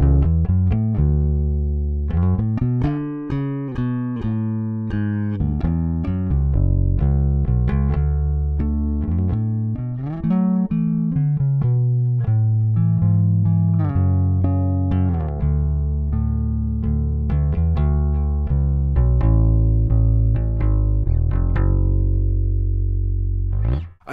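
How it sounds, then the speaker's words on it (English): Electric bass guitar strung with DR strings played continuously, with a run of plucked notes in a steady rhythm, warm and full, close and loud with no voices. "And I think this bass wouldn't sound like this without these strings."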